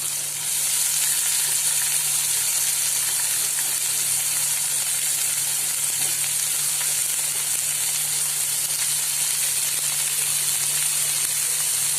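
Chopped tomato and onion fry in hot oil for a spicy tangra fish curry, giving a steady, close, continuous sizzle and hiss that holds at an even level throughout.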